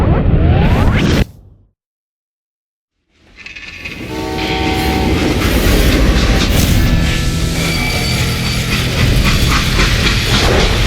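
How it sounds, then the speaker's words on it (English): A freight train in the Call of Juarez Gunslinger video game rumbles loudly, cuts to a brief silence, then returns as a sustained roaring run with a long horn-like whistle tone layered over the rolling clatter. "They hopped a freight train"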